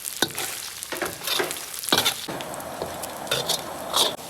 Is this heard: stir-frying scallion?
yes